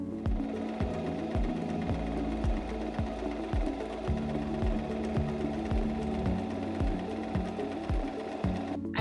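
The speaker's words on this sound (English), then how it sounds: "Let's sew to see what that looks like." Singer M3330 sewing machine sewing a wide zigzag stitch, a steady rapid mechanical thumping with a motor hum, close and moderately quiet, continuous without talk.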